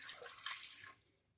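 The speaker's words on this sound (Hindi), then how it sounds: "इसमें हम ओल को डाल देंगे और 1 ग्लास पानी डालेंगे।" A glass of water is poured into a pressure cooker holding chopped suran (elephant foot yam), a close, splashing gush that cuts off after about a second, leaving silence.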